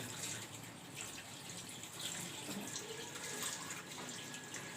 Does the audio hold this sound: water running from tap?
yes